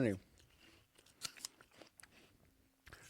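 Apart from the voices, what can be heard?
chewing an apple next to the microphone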